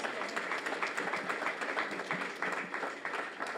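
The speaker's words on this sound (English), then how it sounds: "Can y'all give him a round of applause?" Audience at a community re-entry program graduation ceremony gives a steady round of applause, dense overlapping claps sustained throughout at moderate distance, with no talk over it.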